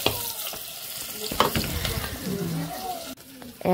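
Ginger garlic paste, chili, onion and spices sizzle and fry in a pan, a close, steady hiss broken by stirring scrapes.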